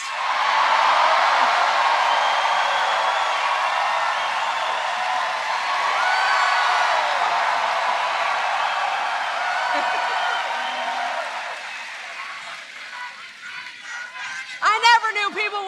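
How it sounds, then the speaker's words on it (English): A large crowd at a political rally in Flint, Michigan cheering loudly, a sustained roaring swell of voices and whoops that holds for several seconds and then fades into scattered claps and a speaker's voice returning. "I never knew people would cheer so loud for roads."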